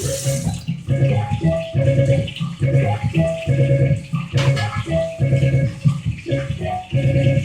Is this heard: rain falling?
no